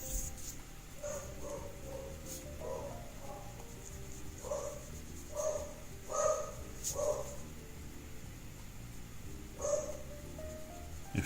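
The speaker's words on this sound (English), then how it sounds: "There's my dog barking as usual." A dog, part pit bull, barks repeatedly indoors at a distance, with irregular single and double woofs and some yips, faint against a quiet room hum.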